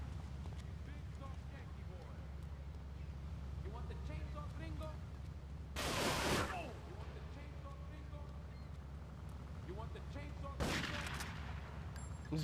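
Two loud shotgun-like blasts go off several seconds apart in Grand Theft Auto III, over a steady low game rumble with scattered fainter shots, while someone talks throughout.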